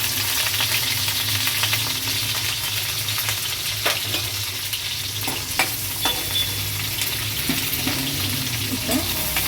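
Half an onion and curry leaves frying in hot oil, with a continuous loud sizzle and occasional stirring scrapes and clicks in the pan.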